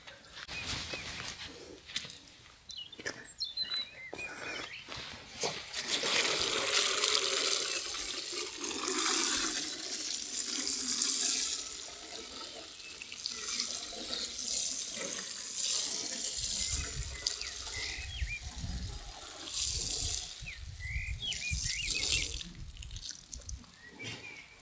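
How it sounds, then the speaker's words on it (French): Water poured onto a garden vegetable bed being prepared for Cheyenne potatoes, a steady splashing rush that swells and fades in waves, with heavier low spattering near the end and no talk. "maintenant j'arrose la planche tout simplement"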